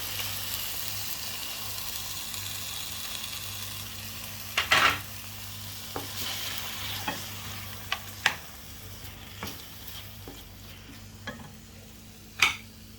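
Egg frying in a pan for a simple breakfast, giving a steady, soft broadband sizzle with a cluster of sharper crackles early on and several brief clicks and taps of utensils scattered throughout, with no talking.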